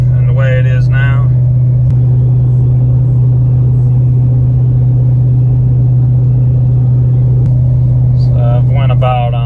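A ProCharged 2020 Ford F250 with the 7.3 gas engine tows 10,000 lbs at highway speed, its engine and road noise a loud, steady low drone inside the cab, with someone speaking briefly at the start and end.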